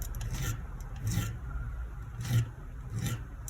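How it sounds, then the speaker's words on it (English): A Tamiya sprue cutter's soft cutting edges are re-honed with repeated rasping strokes. Each stroke is a short, gritty scrape at a steady back-and-forth rhythm, close and moderately loud. "You can basically re-hone these edges, but they are super soft,"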